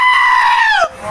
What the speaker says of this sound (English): insert one of those goats right here